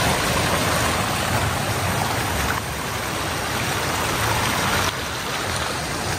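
River water flows steadily beside a village in northern Uganda, a continuous rushing wash close by with slight swells in level and no voices.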